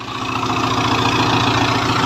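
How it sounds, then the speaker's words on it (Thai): An Isuzu turbo four-cylinder engine drives an 8-inch water pump beside a pond, running at a steady, loud idle-like drone with a throbbing low rhythm, close by and alone. "นี่เป็นเครื่องยนต์อีซูครับผม"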